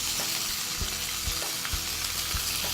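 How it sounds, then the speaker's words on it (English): Chopped garlic sizzles in a hot skillet, making a dense, close, steady crackle with a few soft knocks from the pan, and no voices. "skillet to be nice and hot. And we add the garlic"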